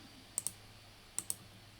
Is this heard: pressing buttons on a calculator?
yes